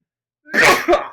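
A single abrupt sneeze bursts out nearby, loud and broadband, with a short second expulsion right after, heard alone during a Gabriel Knight: The Beast Within game session.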